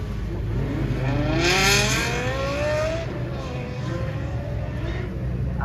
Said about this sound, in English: Now this one here is one to listen to, the V10 Lexus LFA.